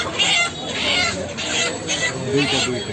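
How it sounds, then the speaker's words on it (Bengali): Live chickens at a market cluck and squawk in repeated bursts as the biggest birds are picked out and caught, close and fairly loud over busy market noise, with voices speaking throughout. "সবচেয়ে বড় যে মুরগিটা সেইটা কিন্তু বেছে বেছে ধরা হচ্ছে"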